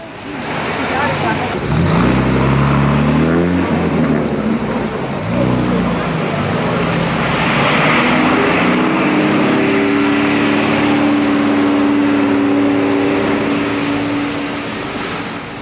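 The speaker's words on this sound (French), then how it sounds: "le camion d'Emmaüs s'en va, son chauffeur découragé par le désordre" An Emmaüs truck engine revs and pulls away amid a crowd, its motor droning and shifting pitch over several seconds while people talk loudly nearby.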